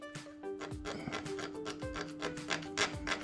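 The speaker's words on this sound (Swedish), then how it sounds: "Ska skrapa bort lite färg." Scraping paint off a metal part of a Yamaha Aerox scooter, a series of short rasping strokes repeated at a quick, uneven rhythm, close up and fairly quiet.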